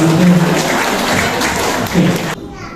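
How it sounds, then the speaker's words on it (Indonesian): Parents at a school committee meeting of SMAN 10 Bandung break into loud, dense applause that fills the room, with a voice briefly speaking over it before the clapping cuts off abruptly. "Tepuk tangan Bapak Ibu."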